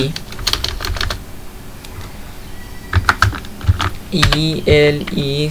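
Bursts of clicky keystrokes on a computer keyboard while working in Excel, coming in short irregular clusters, with a voice speaking over the later part of the typing.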